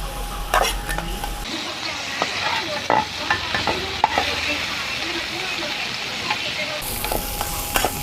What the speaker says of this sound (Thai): กระเทียมสับ ผัดกระเทียม